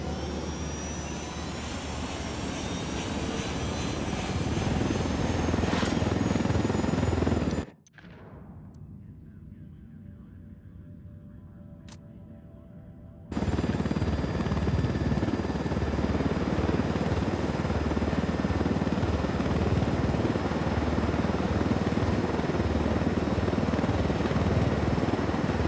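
A helicopter in the video game Ghost Recon Wildlands, its loud rotor and engine drone filling the scene, cut by a few seconds of muffled near-silence before the full roar returns and holds steady.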